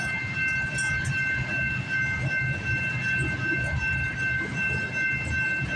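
A CPKC 231 manifest freight train with a BNSF locomotive rolls past at Guelph Line in Campbellville, a steady loud rumble of railcars with a continuous high tonal whine running throughout, close by and without voices.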